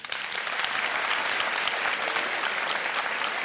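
A studio audience at a Beyaz Show taping applauds a band: dense, steady clapping from a large crowd that stays loud and even for the whole stretch, with no voices standing out.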